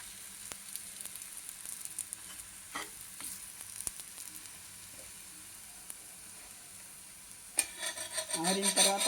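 Bobbatlu, a sweet Telugu flatbread, cooking in ghee and oil on a pan, giving a steady soft sizzle with faint scraping touches, growing louder and busier near the end.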